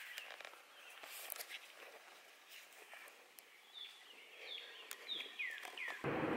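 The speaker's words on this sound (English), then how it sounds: "we'd hear these birds in the morning, so it's kind of nice to hear that again." Birds singing in the early morning, faint scattered chirps and short rising calls over a quiet, distant background.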